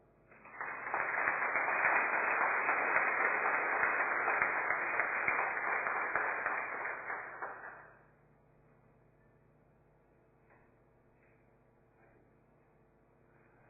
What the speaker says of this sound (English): could see some people clapping in Malawi here